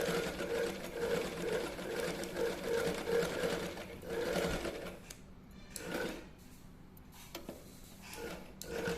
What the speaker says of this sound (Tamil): இது அப்படியே ஸ்ட்ரைட்டாக ஒரு ஸ்டிச் பண்ணிடுங்க.